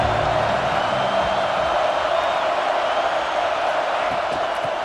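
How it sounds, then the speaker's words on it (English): A football stadium crowd at a Michigan vs Iowa game sends up a steady, dense roar of voices that holds loud and unbroken throughout, with no commentary over it. "This crowd ready to make its presence known."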